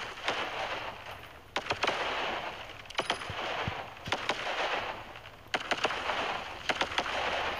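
Enemy robots fire at the player in Robot Warfare, producing repeated bursts of rapid gunfire with sharp cracks over a rushing mechanical roar, arriving in clusters with short lulls between volleys.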